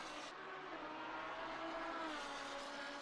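A race car engine drones steadily at Bathurst in the Assetto Corsa Competizione 12 Hour sim race, with a continuous mid-pitched buzz that shifts gently in pitch and stays even in level for the whole stretch, without any voices.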